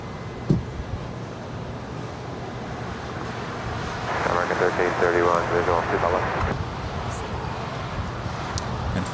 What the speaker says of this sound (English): we do have the Fiji Airways A350 about to touch down at 25 left